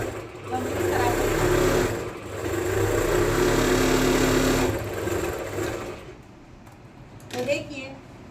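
A sewing machine runs in close, loud bursts as it stitches a seam on a Patiala salwar. It whirs for a few seconds, pauses briefly, then runs again before quieting, and someone talks throughout.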